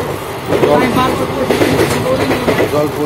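The Ganadevata Express runs on its rails, with a loud, continuous rumble and rhythmic clickety-clack of wheels over the track joints, heard from inside a passenger coach.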